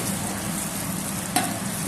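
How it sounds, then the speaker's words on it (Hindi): Chopped onions fry in a pot for restaurant-style veg pulao, a steady close sizzle with soft stirring scrapes and one brief sharper clink near the end, no voices. "इसको प्रॉपरली अच्छे से मिक्स कर लेंगे।"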